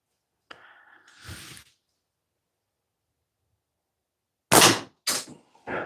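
Pellet gun shots indoors in a garage shop, a few sharp cracks separated by silence, some followed by short rattles of pellets bouncing off the target area, close and loud.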